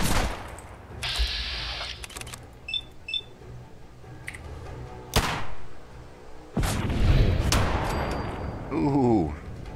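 Gunfire in the video game Fallout 4, with several sharp broadband shots and bursts of varying loudness spread across the stretch, some close and loud, mixed with game ambience and a voice.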